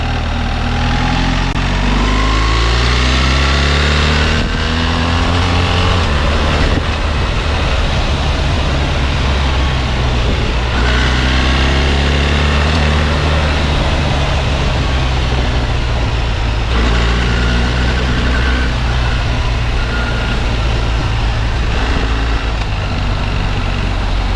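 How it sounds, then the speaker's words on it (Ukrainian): BMW R1300GS motorcycle with an automatic gearbox accelerating, engine pitch climbing in repeated sweeps and dropping at each upshift with short breaks between gears, loud and close, with no talk. "Зараз буду прискорюватись, коробка буде підкидати передачі вверх."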